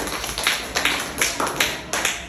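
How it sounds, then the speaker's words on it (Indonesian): Students in a classroom clap for a group in short rhythmic bursts, five or six distinct pulses of fairly close clapping, with a little murmur of voices in between. "Kasih tepuk tangan untuk kelompok Abu Bakar."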